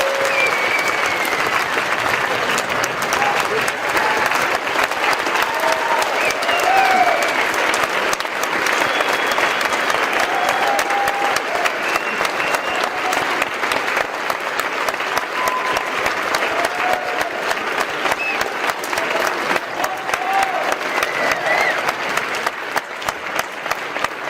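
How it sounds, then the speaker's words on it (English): A long, sustained round of applause from an audience of cadets for a retired Air Force colonel after his talk, dense and steady clapping filling the room at fairly loud level throughout. "give Colonel Hoffman a round of applause."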